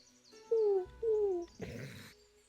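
A voice in a VRChat roleplay imitates baby owlbear noises: two rising-falling chirpy coos followed by a breathy rustling squawk, close and fairly quiet.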